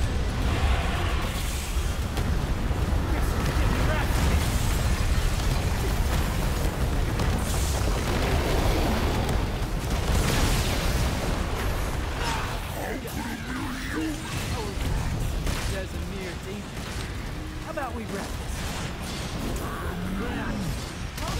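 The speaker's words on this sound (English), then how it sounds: "One of his attacks is an area of effect explosion." Loud, sustained booming rumble of an area-of-effect explosion attack in Devil May Cry 5, rolling continuously with crashing debris, then settling into a lower, churning roar with scattered game effects.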